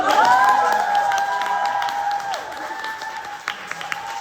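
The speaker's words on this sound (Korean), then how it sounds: "여러분 박수 축하 박수" Audience applause congratulating a newly promoted international marketing manager at a member interview event, a broad wash of clapping with steady tonal music running underneath, fading slightly toward the end.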